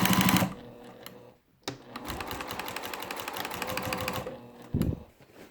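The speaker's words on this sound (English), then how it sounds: "And now we're just going to start stitching." Sewing machine stitching binding onto a quilt: rapid mechanical needle chatter in two bursts separated by a brief pause, fairly close, with a short voice at the start and end.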